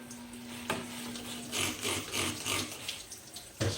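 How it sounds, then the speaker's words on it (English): Short bursts of vinegar spraying from a hand spray bottle, repeated several times close up, with a few sharp knocks between them. "is spraying vinegar on it. That's the sound you hear."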